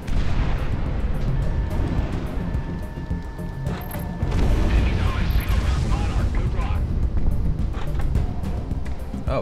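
A missile impact explosion in the Project Wingman air combat game, a deep continuous rumble with a heavier swell partway through, loud and near, over constant engine roar.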